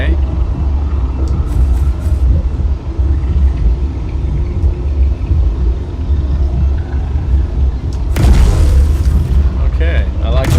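Big cannon mounted on a new spaceship in a space game fires, giving deep booming rumbles that run steadily through the stretch and swell into a louder burst near the end, with no talk over it.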